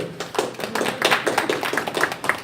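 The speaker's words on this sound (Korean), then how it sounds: "용감한 형제 박수." A small group claps unevenly at close range, with scattered, distinct hand claps rather than a full ovation.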